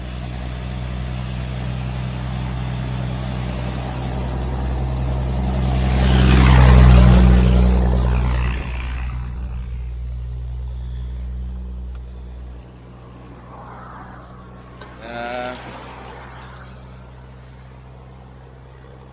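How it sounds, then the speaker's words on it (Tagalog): A vehicle approaches and passes on a rural road at night near a hillside cemetery, its engine rumble swelling to a loud peak and then fading, with a low steady drone throughout. "may sasakyan dumarating guys"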